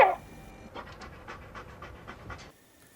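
Ein, the Welsh Corgi space dog from the Cowboy Bebop anime, pants in a quick, steady rhythm of short breaths for about two seconds, close and fairly soft, with no voices over it.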